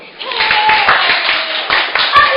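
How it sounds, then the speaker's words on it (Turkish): A group of children claps steadily in a roomy space, a dense patter of hands at fairly loud level with light voices mixed in. "Arkadaşınızı alkışlayalım"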